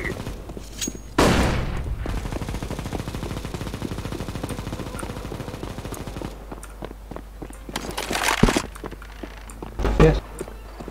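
Gunfire and a grenade in Counter-Strike: Global Offensive, bursts of rapid shots with sharp impacts and a loud blast, over a low game background.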